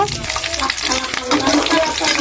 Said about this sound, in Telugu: తాలిపి గింజలు ఒక ఎండు మిరపకాయ కొద్దిగా కరివేపాకు ఇది వేసి కొద్దిగా వేయించుకోవాలి